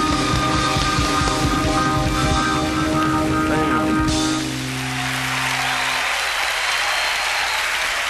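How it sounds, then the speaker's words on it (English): Handclaps in a song keep a rhythmic pulse under sustained instrumental tones. Midway the music thins out and a dense, hissing wash of clapping carries on almost alone. "Lots of claps today."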